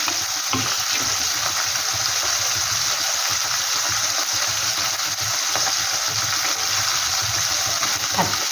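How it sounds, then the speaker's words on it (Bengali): Mourola fish frying in oil in a pan gives a steady, loud, unbroken sizzle and crackle from start to finish, with no voices. "তেলগুলো প্যানে দিয়ে ছড়িয়ে দিচ্ছি। এবার মাছগুলো ভালো ভাজা হবে"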